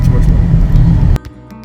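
A convertible driving with its top down on roads around Red Rock Canyon, Nevada, giving a loud close rumble of engine and wind buffeting for about a second before the roar abruptly drops away to quiet.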